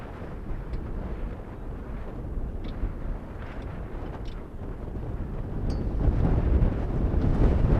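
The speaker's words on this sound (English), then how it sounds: "that wind, as you can hear, really whipping around" Strong wind buffeting the microphone at an outdoor high school baseball game, a dense low rumble that holds steady and swells louder toward the end, with no voices heard.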